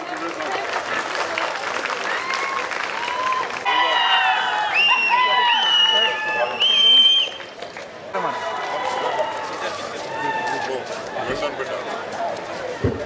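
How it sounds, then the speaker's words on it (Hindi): A crowd at an official flag-hoisting ceremony applauds loudly as prize winners are called: sustained clapping with cheering mixed in, a loud swell in the middle, and people talking over and around it. "जोरदार तालियों के साथ"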